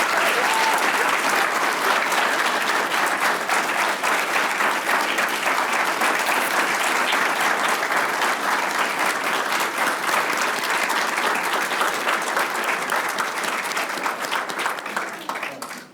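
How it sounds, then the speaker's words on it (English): Long, full applause fills a graduation hall as the audience honors the 2021 law school graduates at a Kente stole ceremony, steady and loud before tapering off at the end. "If we can get a round of applause for all of the graduates."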